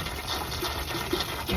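Steady trickling and splashing of water poured onto garden plants, a soft continuous flow with no voices.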